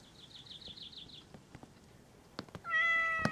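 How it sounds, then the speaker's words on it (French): A cat in a Roblox police game gives a short wavering meow near the start, then a louder, clearer meow at the end after a few soft taps. "Oh non, c'est un chat dans les arbres."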